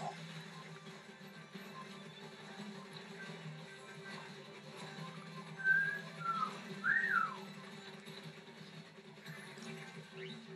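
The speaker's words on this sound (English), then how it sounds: "what did I say about whistling" A few short rising whistled notes in a quick cluster, fairly faint over a steady low background hum.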